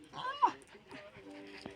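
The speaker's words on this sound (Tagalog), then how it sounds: "Yung mga aso, ayaw niya akong papasokin." Dogs pant and let out a few short, high whimpers close by, with people talking over them during a Christmas-time home visit.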